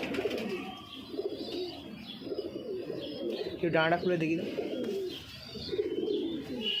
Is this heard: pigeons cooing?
yes